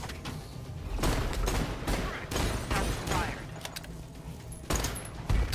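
Rapid bursts of video game gunfire in the mixed reality shooter Spatial Ops, loud repeated volleys with booming impacts, interrupted by short gaps over several seconds.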